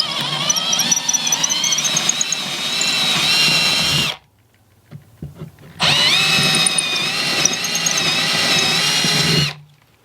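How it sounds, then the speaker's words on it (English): A power drill whines through a wooden dresser drawer in two long, loud bursts, its pitch wavering as it bites, with a brief quiet gap between. "we can go ahead and drill a hole all the way through"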